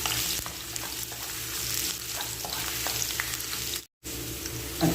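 Ginger hits hot oil in a pan for dry squid adobo, a loud, dense, continuous sizzle close by that cuts out abruptly for a split second near the end before resuming.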